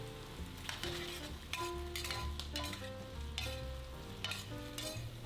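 Scallops and sugar snap peas stir-fried with sauce in a hot pan, a loud steady sizzle with scraping stirs and light clinks of a utensil throughout, no talking.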